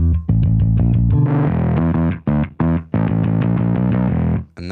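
Bass guitar played through the Safari Pedals Cobra Fuzz plugin with EQ applied, loud and heavily distorted, a choppy riff of punchy fuzzed notes separated by short gaps.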